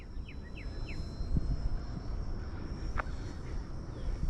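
An RC B-2 model airplane flies past at full power, a steady broadband engine drone with a faint high whine lasting throughout, with no talk over it.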